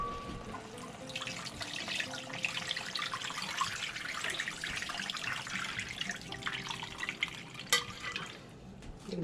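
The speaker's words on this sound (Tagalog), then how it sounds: "Dagdagan natin ito ng tubig para mapalambot natin." Water pours steadily into a cooking pot of browned pork hock being made into hamonado, a continuous close splashing rush lasting several seconds.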